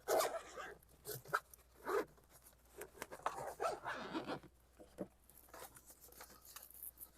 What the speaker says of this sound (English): Just going to unzip this.